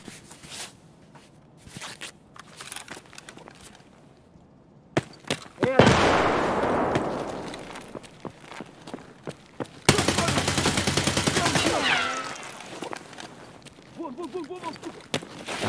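AK-74 bursts in Escape from Tarkov, with sharp single shots early on and then two loud sustained volleys of automatic fire close by, broken by footsteps and gear rustle. A voice speaks during the clip.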